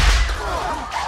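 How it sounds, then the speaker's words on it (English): A whip crack in an Indiana Jones trailer, a single sharp whoosh and snap over a booming low rumble of score or effects, loud and up close. "There's a couple jokes about him using the whip and the guns,"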